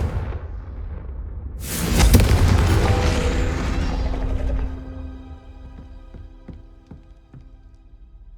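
A Confringo fire spell explodes in the video game Hogwarts Legacy, giving a loud, booming blast that swells and then rumbles down over several seconds. Faint lingering crackles and tonal game sounds follow.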